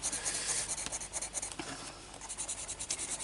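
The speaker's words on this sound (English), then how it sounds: "This is a burnishing pencil." A burnishing pencil rubs steadily across paper over chalk crayon colouring, a soft continuous scratchy scribbling close up, with short rhythmic strokes and brief pauses.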